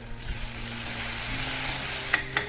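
Onion and tomato sautéing in a pan for elephant foot yam fry, a steady soft sizzle close by with low background hum and a couple of sharp clinks near the end, no talking.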